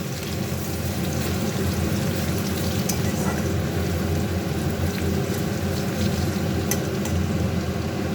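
Crushed garlic frying in oil in a pan for dal makes a steady, even sizzle with fine crackling pops that runs continuously at close range, with no voices over it.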